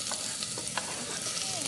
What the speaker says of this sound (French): Donc notre huile est chaude, on va déjà commencer par faire revenir nos petites échalotes.